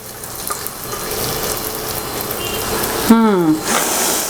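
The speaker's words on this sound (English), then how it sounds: "So let it fry." Small pieces of ginger fry in hot oil for a tomato bharta, giving a continuous hissing sizzle throughout, with a voice briefly cutting in near the end.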